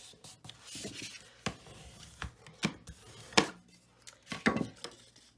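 Paper cardstock is scored along a quarter-inch line for a shabby chic folio card. It gives a run of irregular, close scraping and tapping strokes with short quiet gaps between them.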